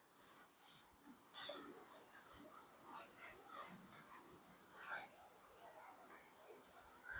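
Marker or chalk strokes on a classroom board during a biology lesson, a steady run of short scratchy strokes with soft breathy noise, close and fairly quiet, with no talking.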